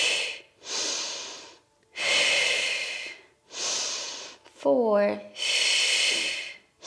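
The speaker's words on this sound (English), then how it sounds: "Exhale, inhale, exhale, and inhale." Steady in-and-out breathing during a Pilates exercise: five long, loud breaths alternating with short pauses, close to the listener, with a voice briefly counting between them.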